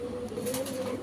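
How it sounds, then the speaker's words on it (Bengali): A male Jansen-bloodline racing pigeon coos in a steady, low, continuous hum, close and fairly quiet, with no talk over it. "একটা নর কবুতর ভাই,"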